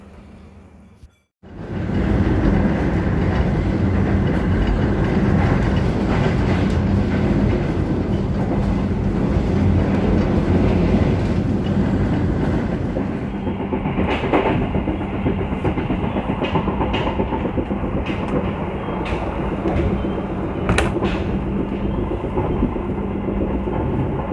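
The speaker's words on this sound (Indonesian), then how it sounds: "kereta api Lodaya sudah berangkat stasiun Ciamis" The Lodaya passenger train rumbles loudly nearby at night, wheels clicking rhythmically over the rails as it pulls away from Ciamis station and gathers speed.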